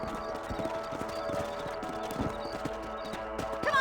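Horses ridden across open ground in the Red Dead Redemption video game, hooves clip-clopping in a steady galloping rhythm under a soft music bed, with a faint whinny near the end.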